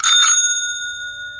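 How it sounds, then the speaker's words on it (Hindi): A bicycle bell rings once with a bright metallic ding that lingers and fades over a quiet background. "जैसे किसी ने साइकिल की घंटी बजाई हो।"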